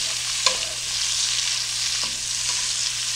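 Sausages fry in a skillet with a loud, steady, close sizzle and a couple of brief clicks or pops, heard alone.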